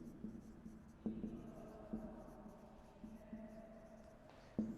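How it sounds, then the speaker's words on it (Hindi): Chalk scratching and tapping across a classroom board during a zoology lecture, with steady strokes and several sharper taps at irregular intervals, fairly close and moderately quiet. "यहाँ कुछ स्पेशल पेपर के नाम मैं लिख रहा हूँ आपको"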